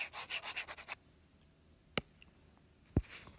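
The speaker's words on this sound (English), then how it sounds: "I'm just going to erase this" A quick run of rubbing strokes erases writing on a board, about seven brisk swipes in under a second, followed by quiet with two isolated knocks.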